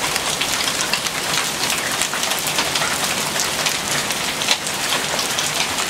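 Dense, steady patter of hail falling on a porch during a storm in Virginia, a continuous hissing clatter of hard pellets nearby with no voices.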